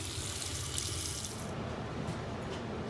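Water runs steadily from a sink faucet fitted with an aerator, flushing grit after a water heater anode rod swap; a continuous close hiss with no talk, slightly softening halfway through.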